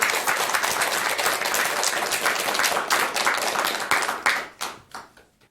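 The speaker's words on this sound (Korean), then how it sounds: "박수 쳐주세요." Audience applause at a Buddhist monk's talk, a dense, steady crowd clapping that holds for several seconds and then thins out and fades near the end.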